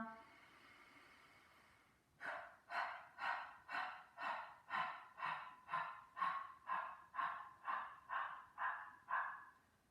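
Breathing during a Pilates core and posture workout. Fifteen or so forceful, evenly spaced breaths pulse at a quick steady rhythm, close and fairly loud, after a quieter opening stretch.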